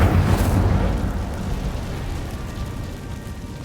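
Incendio fire spell cast in Hogwarts Legacy, a loud whooshing burst of flame that erupts at once and then fades into a steady low rumble.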